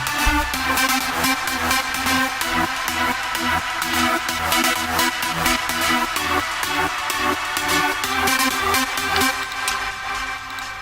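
A trance lead synth from the Spire plugin plays a rhythmic, repeating pattern of bright pulsing notes over a steady beat in an uplifting trance track, loud and continuous.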